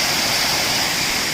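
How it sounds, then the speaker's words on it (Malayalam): A forest waterfall of clear water in Idukki, a steady, full rushing roar close by that holds constant throughout the short stretch, with no voices. "കണ്ടോ എന്ത് രസമുള്ള വെള്ളച്ചാട്ടം നോക്കി."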